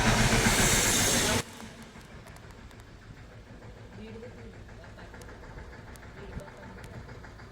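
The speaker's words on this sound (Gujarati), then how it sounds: "અત્યારમાં ટ્રેક્ટર આવી ગયું" A loud tractor engine rumbles for just over a second, then cuts away to a much quieter, steady background hum with a few faint clicks.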